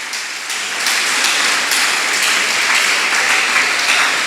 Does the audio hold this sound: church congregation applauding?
yes